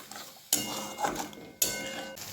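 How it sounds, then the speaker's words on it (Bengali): Spice paste being stirred and fried over a low flame for an ivy gourd dish, with two sharp metal-on-pan clatters of a spoon scraping the pot amid a faint steady sizzle, close by. "এবার ভালো করে লো ফ্লেমেই নাড়তে থাকবো আর কষাতে থাকবো"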